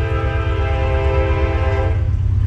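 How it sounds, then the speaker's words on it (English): A train rumbles past close by with a loud, sustained horn blast sounding over the heavy low roar of the wagons. "And I hear that train coming."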